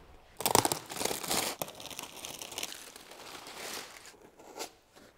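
Plastic and paper packaging crinkles and tears as Honda CT125 motorcycle parts are unboxed, with close, irregular rustling bursts and a few sharp rips followed by quieter handling.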